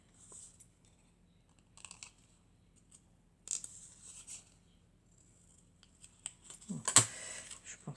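Scissors snip through paper in a few short, sparse bursts to cut out a picture for an artist trading card, close and quiet in a still room, with a louder crinkle near the end.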